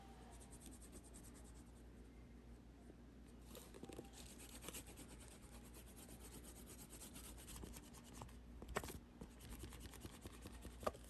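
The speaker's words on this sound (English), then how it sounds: "a little more burnishing" Leather edge of a guitar strap being burnished, a faint, steady rubbing friction that runs continuously, close and quiet, with a few small knocks near the end.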